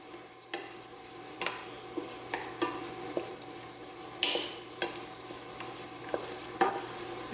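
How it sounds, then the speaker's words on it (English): Stirring beefy noodles in a pot, with a soft steady sizzle under repeated light scrapes and taps of a utensil against the pot at irregular intervals, close and fairly quiet. "Stir that for about a minute"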